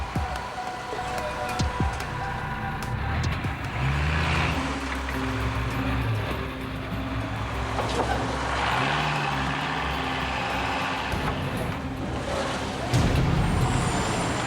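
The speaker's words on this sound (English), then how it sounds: "The full force of the engine is needed now to take up the struggle." A heavy truck stuck in potholes on a rough road in Guyana roars and strains, its engine revving and labouring with hissing air-brake bursts and clunks, loud and close throughout.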